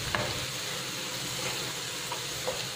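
Chopped tomatoes with salt sizzle and hiss steadily in a hot pan, close and even throughout, with a few soft scrapes from a stirring spoon.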